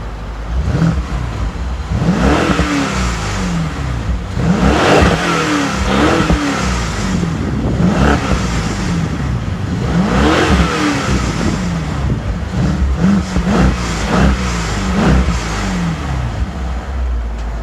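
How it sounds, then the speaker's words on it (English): A BMW 550i fitted with a Dinan M Performance exhaust revs repeatedly, several loud close blips rising and falling over a steady idle rumble, alone without voices. "Let's hear how the exhaust sounds."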